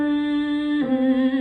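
A sustained hummed vocal warm-up note starting at middle C, a single clear steady tone that steps down slightly in pitch partway through, sung alone and close.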